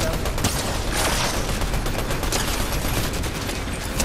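Dense, steady Fortnite gunfire rattles throughout, with rapid overlapping shots forming a loud, continuous fusillade and no clear pauses.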